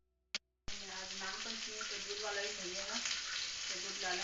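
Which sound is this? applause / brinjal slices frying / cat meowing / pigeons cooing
brinjal slices frying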